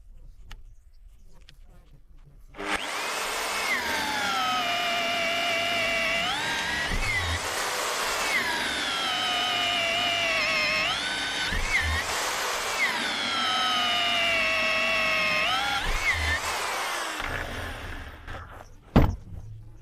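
A rotary hammer perforator bores a large hole into granite, its loud motor whining and dipping under load in repeated long drilling bursts after a quiet start, with brief pauses and a clunk near the end.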